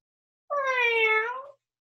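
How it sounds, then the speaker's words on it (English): A cat gives one clear, close meow lasting about a second, alone in silence. "It's a cat."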